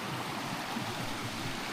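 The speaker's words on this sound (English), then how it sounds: "But I love this little waterfall." A small waterfall at the Frank Gross Campground gives a faint, steady rush of splashing water with no other sounds.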